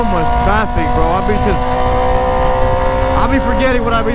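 Traffic noise heard from a GSX-R600 motorcycle in heavy traffic, with a continuous engine drone and shifting engine tones under ongoing talk from the rider.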